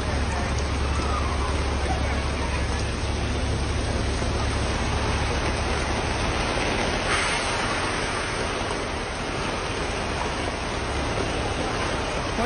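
Steady rain falls throughout, a dense even hiss that stays loud and constant from start to finish with no clear voices over it.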